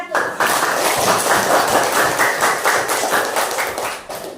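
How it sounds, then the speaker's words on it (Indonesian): A class applauds a student group after its presentation during a teacher competency exam session, a dense, lively clapping that fills the room for several seconds, with voices mixed in. "Tepuk tangan untuk kelompok 1."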